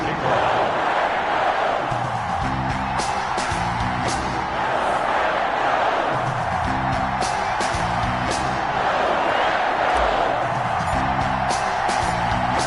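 A dense, steady roar from a stadium crowd in a PS4 football game between the Miami Dolphins and the Green Bay Packers, loud and continuous with rhythmic chanting beats underneath.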